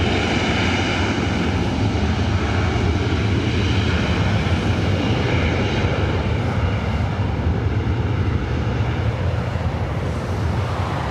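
An Embraer E175 LR regional jet of SkyWest passes near the airport, a loud, continuous engine roar with wind-buffeted rumble that holds steady throughout, no voices.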